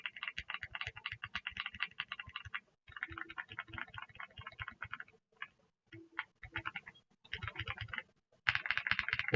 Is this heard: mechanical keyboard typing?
yes